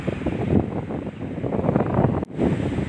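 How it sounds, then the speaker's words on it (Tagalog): Strong wind gusting and buffeting close to the microphone at Dolomite Beach on Manila Bay, with a low roar like surf underneath, continuous for a few seconds. "Mahangin sa Dolomite Beach. Mahangin siya, oh."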